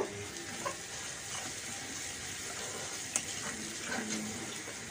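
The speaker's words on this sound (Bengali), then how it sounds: "এটাকে ভেজে নেব।" A paste of ginger, garlic, onion, turmeric and chili powder frying in a pan, a steady soft sizzle with faint stirring scrapes, alone at low volume.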